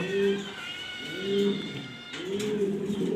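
A pair of uncommon pigeons cooing close by, three drawn-out, rising-and-falling coos in a slow repeating rhythm.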